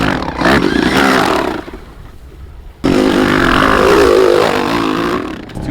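A paddle-tire e-bike rattles and clatters loudly as the tire strikes the mudguard, two rough bursts split by a short quieter gap.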